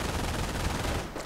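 In a World War II strategy video game, MG42 machine guns unleash rapid, continuous bursts of fire over dense battle noise, holding steady before easing off slightly at the end.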